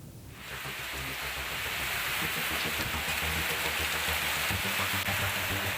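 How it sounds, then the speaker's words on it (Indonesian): Heavy rain with strong wind lashing a village in Tanjung Pura, Tasikmalaya, a dense continuous hiss of downpour that swells quickly and stays loud throughout. "Hujan deras disertai angin kencang menerjang perkampungan warga Desa Tanjung Pura"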